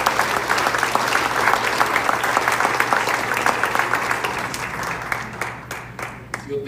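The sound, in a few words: church congregation applauding loudly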